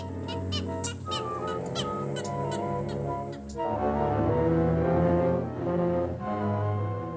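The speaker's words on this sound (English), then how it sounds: "The gallinule's angry scolding gives warning that the prowler of the Everglades is still on the loose." A gallinule in the Everglades gives an angry, scolding run of loud, harsh honking calls, close and repeated in quick bursts, with no talking.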